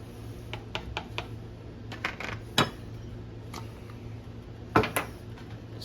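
Basmati rice for curry is stirred in a pot, a utensil giving scattered light clinks and taps against the metal, irregular and fairly quiet over a soft background hum.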